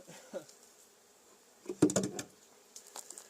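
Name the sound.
honey bees buzzing during hive installation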